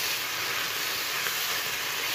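Restaurant-style paneer masala frying in a pan gives a loud, steady sizzling hiss that runs without a break, close by, with no voices.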